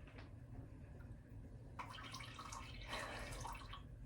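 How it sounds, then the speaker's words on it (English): Water drips and trickles from a kitchen sink faucet, a faint, continuous splashing that grows a little busier partway through, with no talking. "why is the sink dripping?"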